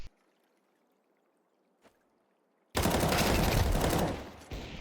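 Counter-Strike 2 competitive match gunfire: near silence with a single faint click, then a sudden loud, dense burst of rapid shots that holds for a couple of seconds and tails off.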